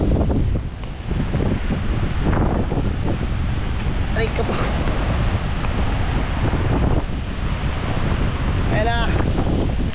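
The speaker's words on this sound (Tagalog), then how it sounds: "Lakas ang hangin." Strong super typhoon wind roars and buffets the microphone in a continuous loud rush near the coast, with a voice shouting briefly over it.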